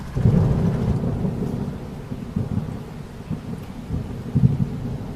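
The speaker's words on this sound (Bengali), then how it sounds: "মুসুলধরা বৃষ্টির আর ঝড়ের দাপটে সামনে এখনো বড়ই মুশকিল" Heavy downpour and thunderstorm in a Bengali horror cartoon, a dense roar of rain with low rolling thunder rumbles swelling and fading across the scene, no voices.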